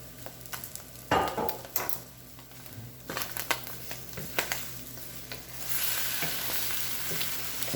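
An omelette frying in a non-stick pan, a steady sizzle with scattered scraping and stirring clicks, the sizzle swelling louder toward the end, with no talking.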